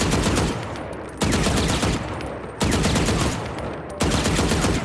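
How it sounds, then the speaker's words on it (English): Automatic rifle in the Valorant video game fired in three short, loud bursts of rapid shots, each burst a little over a second long and separated by brief pauses, with no talking. "you're hitting the automatic, but it's almost like a burst action"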